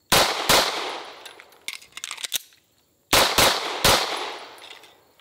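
Rapid bursts of close, loud pistol shots from a Bul Armory EDC 4.25 during a speed drill: a quick pair, a cluster of shots, a short pause of silence, then another fast string.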